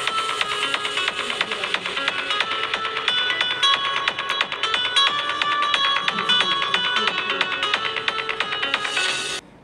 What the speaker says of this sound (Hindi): इसी के साथ आपको इसमें स्टीरियो स्पीकर मिलता है जिसका अगर एक साउंड सैंपल आपको सुनाओ तो